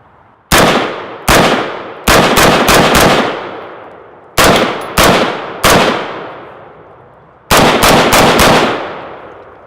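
A rifle fires a high capacity magazine in loud, close shots, single and in quick clusters of two to four, each with a booming ringing decay between pauses.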